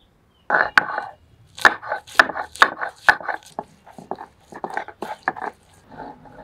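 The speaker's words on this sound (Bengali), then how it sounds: "পেঁয়াজ পাটাতে নিলাম, ছোট করে কাটিনি, একটু থেতে নিতে হবে" Whole onion and garlic are crushed on a flat grinding stone, a series of irregular, sharp knocks and thuds in uneven bursts, close and fairly loud, with brief pauses between groups of strikes.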